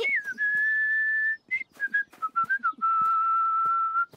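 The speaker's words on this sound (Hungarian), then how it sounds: "Olyan hangot adtok ki az üdítős dobozokkal, mintha fütyülnétek." A cartoon character whistles through an empty soda can: long, clear, steady tones alternating with a run of short chirpy notes, close and loud, with no talking.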